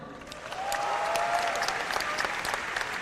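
An audience at a comedy roast of political candidates applauds steadily, the clapping moderately loud and sustained with no talk over it.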